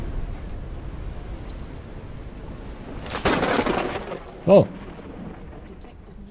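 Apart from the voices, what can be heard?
lightning strikes and thunder in the video game Forever Skies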